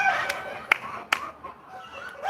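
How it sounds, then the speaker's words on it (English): Backyard hens in an Oklahoma urban garden cackle their egg-laying song, a few sharp clucks standing out over a steady murmur of softer clucking close by. "It's egg laying time, guys. Do you hear it?"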